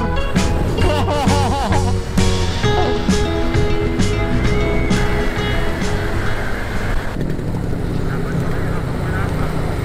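Honda Click motor scooter riding along a coastal road in Mauban, Quezon, steady engine drone with heavy wind rush throughout, a voice talking over it.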